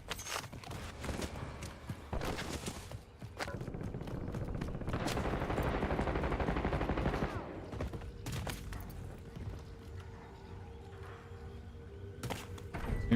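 Bursts of automatic gunfire from a weapon in a Call of Duty Blackout style shooter game, repeated rapid volleys with short pauses, fairly loud and close, mixed with game ambience and occasional thuds.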